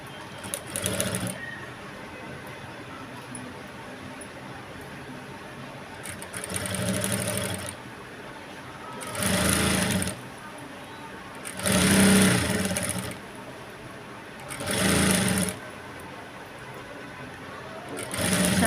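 A sewing machine runs in five separate bursts of stitching while piping and a waist band are sewn onto a blouse, each burst a loud, steady whir over a constant background hum.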